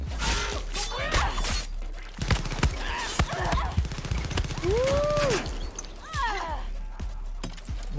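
Pistol shots in a Far Cry 6 firefight crack out as a string of sharp, separate reports, mixed with creaks, mechanical clatter and tonal game sounds, while someone speaks between the shots.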